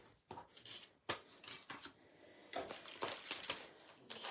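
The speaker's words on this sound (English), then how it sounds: "Let's just cut out our foliage." Scissors snip through paper, cutting out foliage pieces for a corner pop-up easel card, a run of short crisp close cuts and rustles with brief pauses in between.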